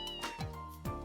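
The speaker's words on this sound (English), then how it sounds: "Meow." A cat in the video game Trails in the Sky SC gives two short, close, clear meows in quick succession over faint game music.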